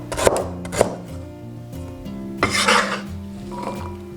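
Knife chopping ginger into chunks on a board, a few sharp separate thuds with gaps between them, joined by clattering utensil knocks toward the end, close and fairly loud.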